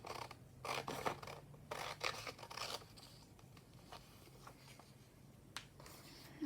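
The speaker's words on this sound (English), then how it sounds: "So what I'm just going to do is cut all of that off." Scissors cut through a magazine page in short crisp snips and rustles, with a few bursts of paper cutting up close and quieter handling of the paper between them. No one speaks.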